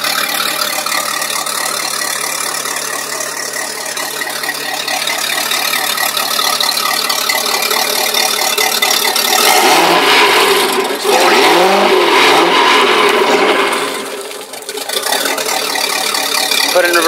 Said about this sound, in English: Put it in gear, kind of rev it up, and put it in neutral, put it in reverse.